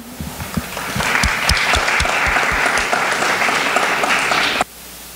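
An audience at a university forum applauds in welcome for speaker Cary Nelson, a dense sustained clapping that swells for about four seconds and then stops abruptly, with no voices over it.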